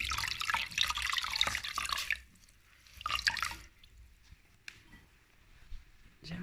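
Lukewarm tap water splashes and drips in bursts as a face is rinsed clean of a homemade banana and milk mask, with quiet gaps between the louder splashes.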